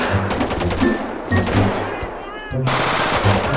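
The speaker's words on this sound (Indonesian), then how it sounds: "masih ada tembakan" Rapid bursts of machine gun fire in a modded GTA 5 police raid, loud and close, in several rattling volleys with brief pauses between them.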